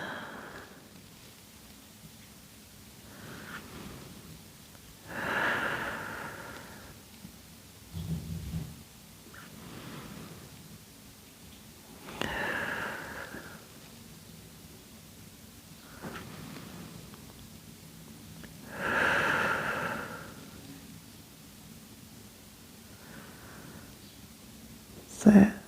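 Slow, deep breathing during a Pilates hip flexor stretch for runners: several long, soft breaths rise and fall at intervals of a few seconds, close to the microphone, with a brief louder noise at the end.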